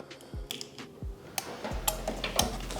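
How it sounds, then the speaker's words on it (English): Sharp mechanical clicks from an electric car relay tester at a steady, roughly half-second rhythm, close by, with small rattling ticks between them. "When you hear the clicking sound, it means it's testing."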